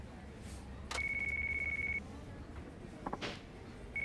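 A mobile phone rings in the Yakuza 5 video game: a steady electronic tone sounds for about a second, falls silent, then begins again, with a short soft chirp in the gap.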